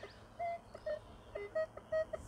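A Minelab Equinox metal detector gives a series of short electronic beeps over a penny, pulsing irregularly, about eight quick tones at a steady pitch over a quiet hiss.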